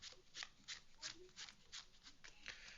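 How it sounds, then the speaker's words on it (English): A deck of cards is pile shuffled during a tabletop card game, with soft, rapid card slaps landing in a steady rhythm about three times a second while people talk nearby. "Give me 1 second to pile shuffle"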